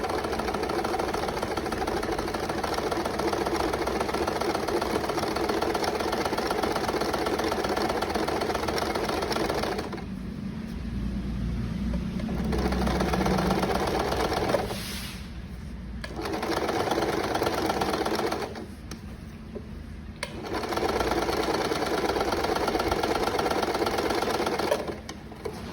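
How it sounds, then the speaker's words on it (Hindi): A sewing machine runs in steady bursts while stitching a princess cut blouse, its close, even mechanical whirr stopping briefly twice before starting again, with no talking. "अब हम इस पर सिलाई लगा लेते हैं।"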